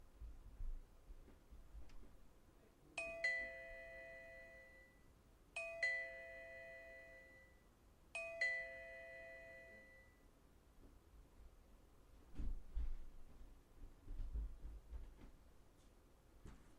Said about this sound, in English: No more doorbell ringing.